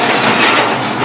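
A Sialkot Express train runs along the railway line between Lahore and Sialkot with a loud, steady rushing rumble of wheels and carriages. The noise stays continuous and close throughout.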